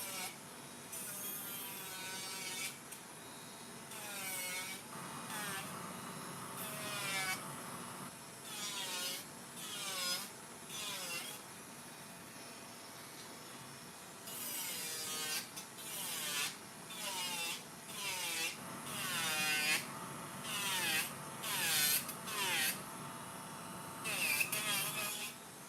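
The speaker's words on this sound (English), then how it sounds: "I'm going to drill this down as far as I can go and then soak them off." An electric nail drill grinds down press-on nails in repeated short bursts, a buzzing whine rising and dipping in pitch as it presses against the nail, with brief pauses between passes.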